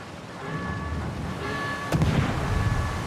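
Naval gunfire in the World of Warships video game: a sustained booming rumble with a sharper blast near the middle, followed by rolling low-end reverberation.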